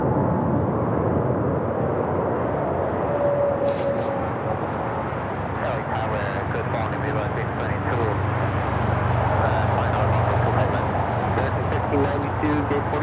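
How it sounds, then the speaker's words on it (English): A United Airlines Boeing 737-900ER jet takes off at Los Angeles airport, its steady engine roar filling the scene from start to finish and swelling slightly toward the end, with a voice talking over it. "We'll be following United Airlines flight 2218 heading to Houston, the"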